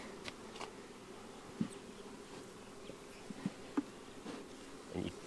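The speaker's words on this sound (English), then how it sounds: "when you got a lot of bees like this, go catty corner" A steady, low buzz of many honeybees droning close by at an open hive during inspection, with a few brief louder thumps and bumps breaking through.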